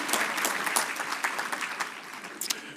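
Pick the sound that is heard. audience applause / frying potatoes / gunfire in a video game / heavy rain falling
audience applause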